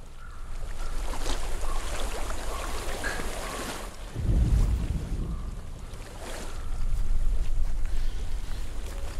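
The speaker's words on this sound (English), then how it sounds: "I hear water." Water flows steadily outdoors as a constant broadband wash with a few swells in loudness and a low rumbling surge partway through, without any talk.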